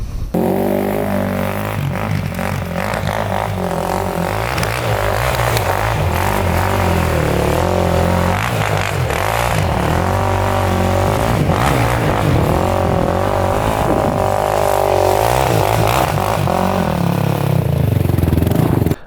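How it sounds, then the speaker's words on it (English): Yamaha YFZ 450 race quad being ridden hard on a break-in run, its single-cylinder engine revving out loudly again and again with rising and falling pitch, close and continuous with no talking. "Next break-in ride, we're going hard on it. And revving it out completely."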